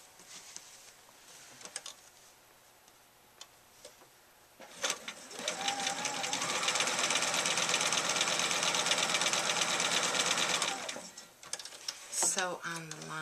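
Sewing machine stitching a quilt border, starting with a few quiet handling taps, then a steady loud mechanical whir running about six seconds before stopping, close up.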